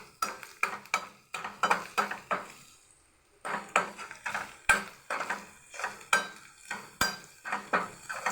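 Tomato paste stirred in a frying pan for a taro root (chamadumpa) curry, a rhythmic series of scraping spoon strokes against the pan over a faint sizzle, pausing briefly midway and resuming, with no voices.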